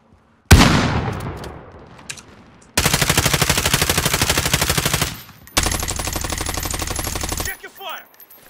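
Bursts of automatic gunfire in Call of Duty Warzone: a loud opening burst that decays, then two long sustained rapid-fire strings separated by a short gap, close and dominant.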